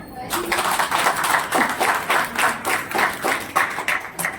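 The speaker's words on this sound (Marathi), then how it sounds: "जोरदार टाळ्या भेटा." Audience applause at a retirement function for a hospital staff member, a dense run of clapping that swells and dips in waves, fairly close and filling the room.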